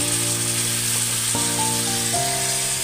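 Ginger garlic paste added to mutton liver frying in a pan gives a steady, loud sizzle throughout, with a few clinking utensil sounds and tonal scraping against the cookware partway through; no one talks.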